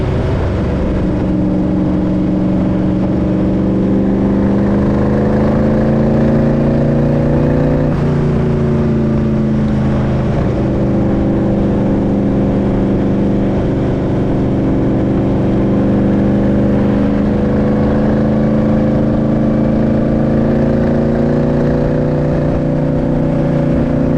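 A 1965 Shelby Cobra with an aluminum big-block engine roars loud and close, a sustained heavy drone whose pitch rises and falls through revs for the whole stretch, with no voices.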